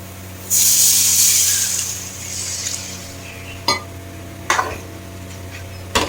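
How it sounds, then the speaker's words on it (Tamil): Tamarind extract hits hot fish curry masala where the oil has separated, bursting into a loud hiss that fades over a second or two, followed by a few sharp clinks of a utensil against the pan. "இந்த நேரத்தில் புளி கரைச்சல் ஊற்றிக்கலாம்"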